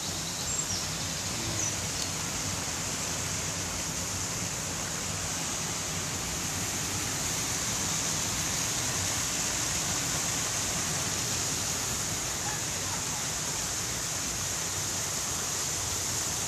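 A waterfall beside a walking route in Winstanley gives a steady, unbroken rushing roar throughout, even and fairly loud, with no voices.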